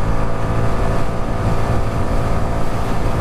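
A steady roar of engine and wind rushing past, loud and continuous, like riding a Honda Biz 125 small motorcycle at speed on an open highway.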